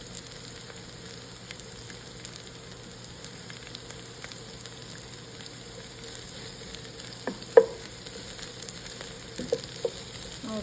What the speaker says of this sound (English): our ginger and onion to cook a little more and longer than we want our garlic, or else the garlic will burn and taste bitter